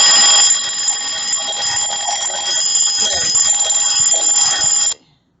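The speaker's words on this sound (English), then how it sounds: "pardon the alarm" A loud, close electronic alarm beeps steadily in a rapid repeating pattern for about five seconds and then cuts off abruptly, leaving near silence.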